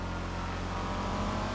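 A car in GTA Online drives with a steady, droning engine that revs continuously, close and fairly loud, with no talk over it.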